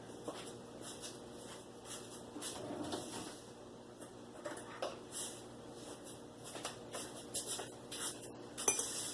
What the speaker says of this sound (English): Let me get a fork.